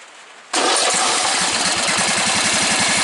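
A Briggs & Stratton 14.5 engine with a richened carburetor fuel mixture fires up after a brief quiet lead-in, then runs loud and close with a rapid, even chug.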